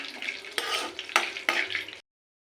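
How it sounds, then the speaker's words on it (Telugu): Coriander leaves fry in a pan, a close, brisk sizzle punctuated by three sharp stirring scrapes before cutting off abruptly. "దీన్ని ఫ్రై అనేది చేసుకుందాం"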